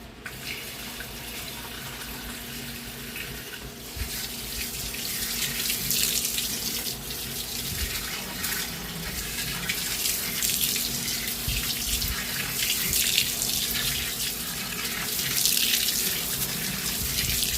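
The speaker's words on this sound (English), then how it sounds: "let's put the water hose back in" A garden hose runs steadily at a homemade ring washer, a continuous hiss of flowing water that swells slightly and holds on without talk.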